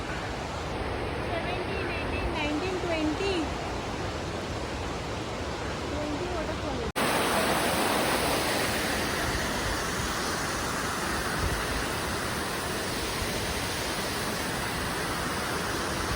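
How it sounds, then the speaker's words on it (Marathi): Constant roaring rush of a waterfall, loud and broadband, with voices speaking over it in the first half. "बाजूला धबधबा देखील चांगला आहे"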